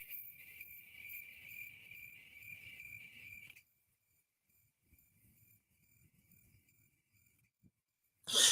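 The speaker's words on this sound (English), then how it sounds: "I have some crickets." Faint high-pitched cricket chirping trills steadily for a few seconds over quiet background rustle, then fades out, ending with a sudden loud burst.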